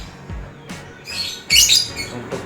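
A lovebird calling close by in short bursts of sharp, shrill chirps and squawks, several strokes in a few seconds over faint background noise.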